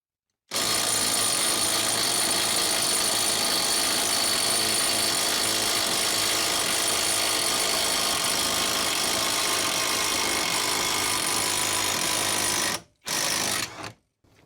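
A 12 volt brushless Hyper Tough impact wrench hammers steadily for about twelve seconds loosening a tight bolt, loud and close, then stops briefly and gives a short final burst.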